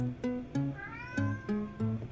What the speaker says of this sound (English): My cat's, like, so upset. She's so hungry.